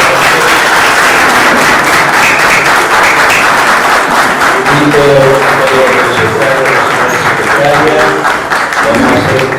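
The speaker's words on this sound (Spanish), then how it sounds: "Un aplauso." Applause fills a municipal council session during a recognition ceremony, loud sustained clapping from a crowd throughout, with a voice speaking over it in the second half.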